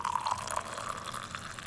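Coffee pours from the spout of an Esbit trekking cookset pot in a thin, trickling stream, soft and close, with small gurgling drips and no talking.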